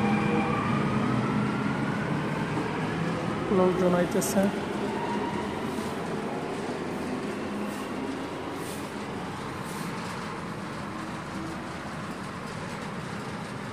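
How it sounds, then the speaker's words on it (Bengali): A metro train passing on an elevated line, a steady loud rumble and rolling roar that fills the whole stretch, with a brief voice speaking over it. "আর এই যে একটা মেট্রো এখন চলে যাইতেছে"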